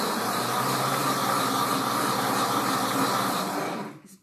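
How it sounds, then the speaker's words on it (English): A Pampered Chef Deluxe Cooking Blender whirs steadily, blending and heating lemon curd with its lid off, a loud continuous motor hum and hiss that cuts off abruptly at the end. "it's blending the lemon curd, very smooth"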